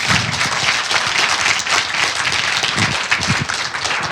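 Crowd applause at a comics festival panel in a hall, a full, dense round of clapping with thicker bursts of nearby hands, continuous from start to finish with no talking.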